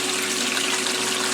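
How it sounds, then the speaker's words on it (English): A 1996 Maytag Dependable Care Plus washer rinsing on a permanent press cycle, giving a steady, continuous rush of running water with a low hum beneath, close and even throughout with no talk. "It's rinsing. This is normally what this washer does."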